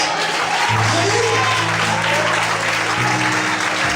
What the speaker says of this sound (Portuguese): Você pode aplaudir esse Deus?